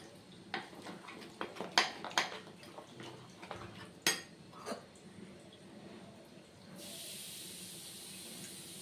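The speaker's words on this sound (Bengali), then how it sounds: "দিয়ে আমি ব্যাটারটা তৈরি করে নেব" A spoon or whisk clinks and scrapes against a bowl while batter for Bengali Malabar spinach pakoda is mixed, with sharp, irregular metallic taps near the start and softer stirring afterward, followed by a steady hiss.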